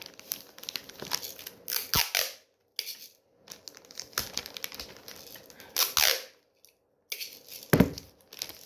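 Adhesive tape is pulled and torn off a roll while wrapping a gift, in a series of loud, crackly strips with short pauses between, close by and with no talking.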